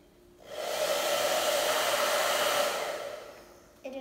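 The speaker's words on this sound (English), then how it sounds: "To test if it is stable from wind, I'm going to use a hair dryer to blow it." Hair dryer blows air onto a small model shelter for a wind test, a loud steady whooshing hum switched on and off, close by, with no talk.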